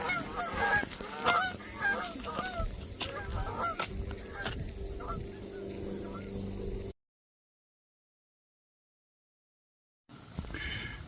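Canada geese on the New England shore honk repeatedly as they take off, a rapid, layered chorus of calls over a low engine hum with a voice talking, broken by a few seconds of silence.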